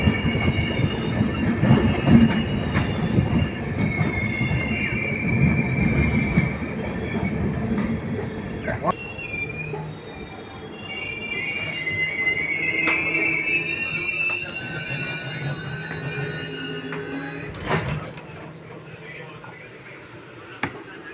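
A passenger train on the Bhubaneswar to Bhawanipatna line pulls into Lanjigarh Road junction with a loud, continuous rolling rumble. Wheels squeal high and thin over it, then the noise eases, and a few sharp metallic clanks sound near the end.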